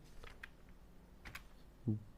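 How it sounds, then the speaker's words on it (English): Light clicks of typing on a computer keyboard, a few sparse quiet keystrokes and one firmer tap near the end, close and alone with no talk. "now I'm just typing"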